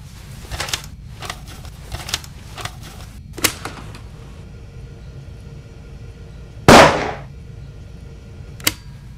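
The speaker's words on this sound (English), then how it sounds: "A shot is audible on the tape" Gunshot played back from a reel-to-reel tape recording in The Raven adventure game, one sharp loud crack standing out after a series of soft clicks and tape noises, followed later by a fainter click.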